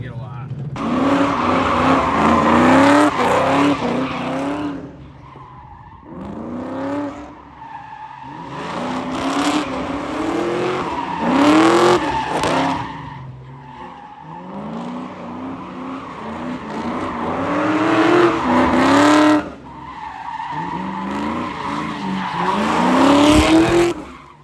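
A Mustang drifts hard through repeated slides with tires squealing loudly and engine revs rising and falling. Bursts of tire screech come close and fade in waves, and people talk between the runs.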